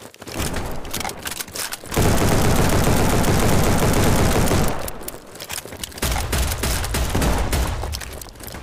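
Shotgun loaded with slug rounds firing in the battledudes.io mobile video game, a dense stretch of loud, rapid overlapping gunfire and booms from nearby, with continuous game noise before and after.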